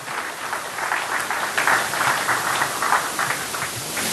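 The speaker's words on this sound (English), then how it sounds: "a loud round of applause for Gurnam Singh" A gala dinner audience of Indians in Sydney applauds, a dense, steady wash of many hands clapping together for several seconds, with no speech over it.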